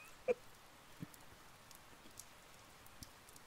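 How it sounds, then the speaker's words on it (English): Light drizzle falling in Persona 4 Golden, a faint, steady patter of soft scattered raindrops with a few slightly sharper drips and no voices. "I don't need an umbrella in a damn drizzle like this."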